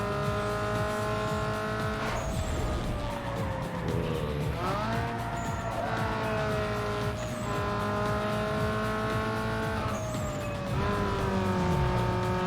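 A racing video game car's engine revs in repeated rising and falling sweeps, loud and close, with occasional tire squeals and no talking.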